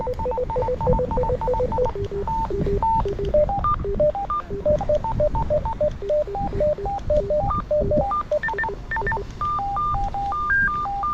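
A Motorola Talkabout T82 Extreme walkie-talkie plays its call tone: electronic beeping tones forming a quick melodic pattern of short pitched pips, steady and fairly loud over a faint background hiss.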